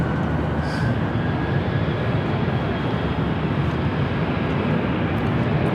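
A Delta airliner in Team USA livery approaching Los Angeles International Airport, heard as a steady, loud broadband jet roar that holds constant throughout, with no voices over it.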